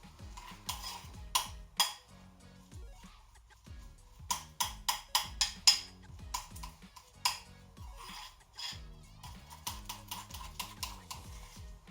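A spoon scrapes herb butter off the sides of a mixing bowl, giving a run of sharp clinks and scrapes in uneven bursts, close and fairly loud with short pauses between.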